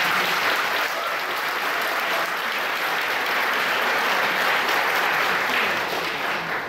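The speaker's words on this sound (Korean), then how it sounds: "대한민국 최정상의 성악가님들께 다시 한번 큰 박수 부탁드리겠습니다" A concert hall audience at a Korean art song festival gives steady, sustained applause to the vocalists, a dense even wash of clapping throughout.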